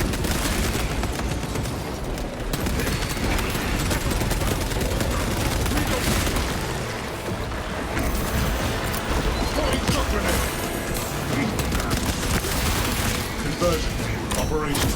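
Shotgun blasts and rapid gunfire in Warhammer 40k Space Marine 2 on Xbox Series X pound continuously in a loud, dense barrage, with booms layered under battlefield noise and game voices.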